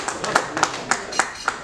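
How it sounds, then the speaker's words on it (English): Scattered clapping from an audience at a medical lecture on heart surgery, a handful of distinct, fairly close hand claps in an uneven rhythm, with no steady roar of applause. "Applause."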